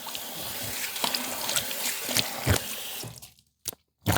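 Water splashed onto a freshly shaved face to rinse off alum: close, continuous trickling and splashing for about three seconds, then near silence broken by two short splashes.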